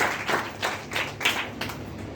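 A church congregation claps together during a Sunday worship service, a burst of several rounds of hand claps with a roomy, slightly uneven rhythm, close and moderately loud.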